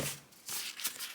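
Cut Cricut material being peeled away from its backing, a short close crackling rustle of thin sheet separating in a couple of quick bursts.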